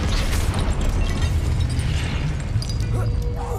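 Expelliarmus spell cast in Hogwarts Legacy, a loud magical burst and booming blast over a dense rumbling game mix, with voices speaking alongside.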